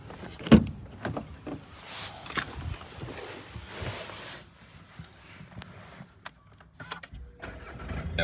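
A VW Golf VIII diesel being started, with a sharp thump early on and then scattered clicks, shuffles and mechanical knocks from the car at a fairly quiet level and no continuous engine drone standing out.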